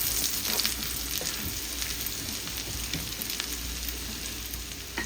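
Chopped onion and crushed garlic sizzling in melted butter in a pan, a steady crackling fry with small pops and stirring scrapes, close and continuous, no talk.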